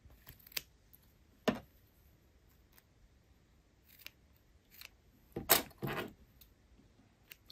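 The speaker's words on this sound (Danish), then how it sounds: "Jeg klipper lige hjørnerne af." Scissors snip the corners off sewn fabric while a buttoned shoulder closure is being made: a few sharp, separate cuts spaced out over a quiet background, with a quick double snip near the end.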